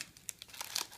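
Protective film crinkles as it is peeled off the back plate of a phone case, a few close, soft crackling snaps in quick succession.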